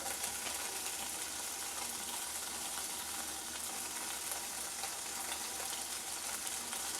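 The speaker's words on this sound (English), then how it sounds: "So next thing I'm going to do is I'm going to add my butter." Half a stick of butter melting into hot noodles in a pan, giving a steady, dense, close sizzle that holds evenly throughout with no talking.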